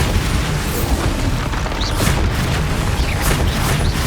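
A Bombarda spell explosion in Hogwarts Legacy, a loud, dense rumbling boom with crackling bursts that fills the whole moment without pause.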